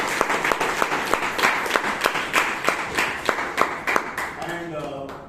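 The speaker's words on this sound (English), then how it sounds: "Give him a big round of applause." Audience applause at a Toastmasters club meeting in Bangalore, a dense round of clapping from a roomful of people that holds steady for several seconds before fading out.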